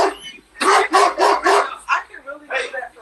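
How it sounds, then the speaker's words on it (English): A dog barks close by, a quick run of five or six loud barks with a short yip near the end. "We got dogs barking"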